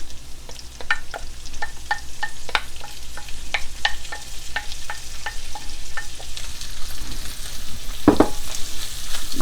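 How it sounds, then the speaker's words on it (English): Steady sizzling of a chopped mushroom-stem mixture in a frying pan with repeated scraping and stirring strokes of a utensil, close by, with a louder clatter near the end. "we're going to let this saute"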